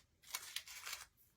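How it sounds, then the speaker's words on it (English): Scissors make a few quick, close snips as they cut a small piece off a paper baking cup. The crisp cutting sounds are short and fairly quiet, with no talking. "So I'm just going to cut a little piece off."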